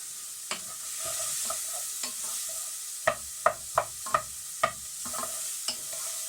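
Spring onion and seeds fry in a pan with a continuous soft sizzle, broken by a string of sharp stirring scrapes and knocks.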